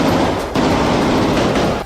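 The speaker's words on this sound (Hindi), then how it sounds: "इजराइल के सैनिक गोलियां चलाते हुए अंदर घुसे" Gunfire from Israeli soldiers storming a position in Gaza, a dense, loud burst of rapid shots and blasts that blurs into continuous roaring noise for about two seconds.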